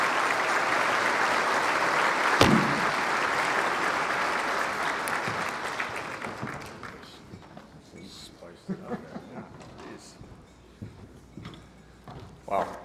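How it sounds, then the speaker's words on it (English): A large audience at a formal Marine Corps birthday ball gives a guest of honor loud, sustained applause that gradually thins and fades into scattered claps. "Please join me in a round of applause for our guest of honor"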